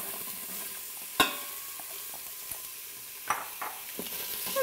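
Diced onion fries in hot oil in an Instant Pot, a steady soft sizzle broken by a few sharp clanks and scrapes of a stirring utensil against the pot.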